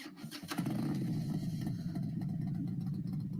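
An engine fires up after a short crank and settles into a strong, steady low rumble that carries on to the end, with no talking.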